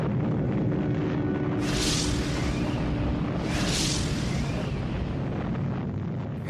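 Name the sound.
nuclear weapon test explosion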